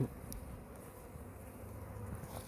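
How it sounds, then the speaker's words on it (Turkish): A steady, low drone of many bees buzzing close by around the hive, continuous and unbroken for the whole stretch with no voices. "çok arı girmeye başladı maskeden"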